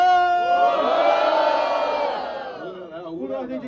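A rap battle crowd at a state qualifier in Cabo Frio, Brazil, roars and cheers loudly, a dense sustained swell of shouts and whoops that gradually fades over several seconds.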